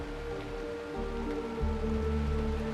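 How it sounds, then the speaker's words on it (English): Steady rain falls in the video game Honkai Star Rail, a continuous even patter with a tonal musical score running beneath it throughout. "This is the sound of rain."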